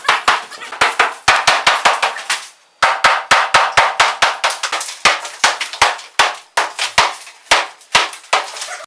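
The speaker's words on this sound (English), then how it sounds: "They took down the wall using mostly a hammer." Repeated sharp hammer blows knocking down a wall, pounding in irregular bursts, loud and close, with brief pauses between flurries of strikes.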